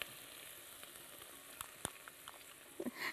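Mushrooms and garlic frying in a pan, a steady soft sizzle running throughout, with a few faint clicks and stirring scrapes near the end.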